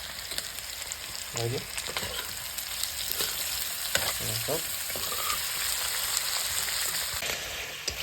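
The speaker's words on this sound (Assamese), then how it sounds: "এইখিনি ধুনীয়াকৈ মাংসখিনি ভাজি আছোঁ।" Pork pieces frying in oil in a pan for an Assamese pork dish, a steady bright sizzle throughout with occasional soft scrapes of stirring.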